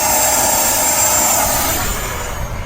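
Freewing F9F Panther model jet with a 4S 64mm electric ducted fan at full throttle, a loud, steady high-pitched whine and rushing roar held close up throughout, with no talking.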